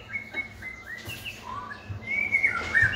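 Songbirds chirp and whistle in quick, bright, repeated calls at a bird singing contest, several birds overlapping and growing louder toward the end.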